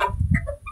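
Two hens and a young stag clucking up close, a quick run of loud, overlapping short calls with brief pauses between them.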